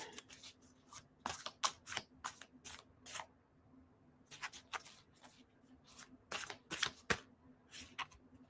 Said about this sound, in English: you will see me um, deal the cards with my eyes closed